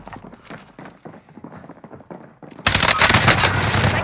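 Rapid gunfire from a bullfrog weapon in a battle royale video game bursts in loudly after a stretch of softer footsteps and movement, continuing as a dense, sustained volley to the end.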